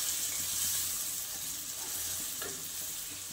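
Spices sizzle in hot oil in a pan while being stirred, with turmeric and cumin powder going into a dhaba-style garlic fenugreek dish, a loud steady fry hiss with a soft scrape of the spoon.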